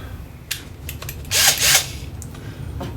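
A power drill bores tuner holes into the wooden headstock of a 2016 Squier Standard Series Telecaster, giving short close whirring bursts with a louder grinding stretch in the middle.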